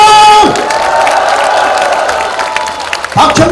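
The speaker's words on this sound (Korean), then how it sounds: "2층에 계시는 분도 박수와 항상!" Crowd at a political constituency report rally cheering, whooping and clapping, loud and close, with a raised voice calling over the noise at the start and again near the end.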